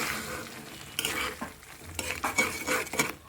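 Prawn head brains with garam masala fry in a pan and get stirred, with close utensil scrapes and bursts of sizzle that rise and fall over a few seconds, no talking.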